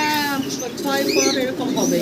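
A pair of spangle shallow pigeons at a home pigeon farm coo softly under close, continuous talk, their low calls mixed in with the voices.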